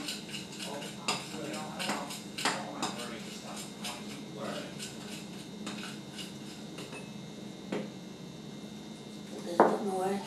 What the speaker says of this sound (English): Just a little tiny bit and stir.